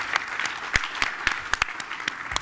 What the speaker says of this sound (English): And a round of applause for David Lee for being such a great moderat